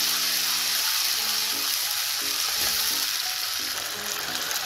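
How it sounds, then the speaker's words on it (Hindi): Tomato paste cooks with fried onions in a pan, giving a steady, loud sizzle that holds unbroken from start to finish, with faint music underneath. "अब इसमें हम टमाटर का पेस्ट डाल देंगे और इसको भी अच्छी तरह से पकाएंगे।"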